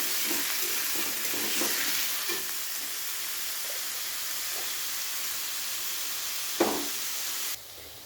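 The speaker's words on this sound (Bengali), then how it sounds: "তো যতক্ষণে গাজর আর আলুটা ভাজা হচ্ছে" Carrots and potatoes frying in a pan for a Bengali vegetable paneer dish, giving a steady close sizzle with a few soft stirring knocks and a sharper clatter near the end before the sizzle drops away.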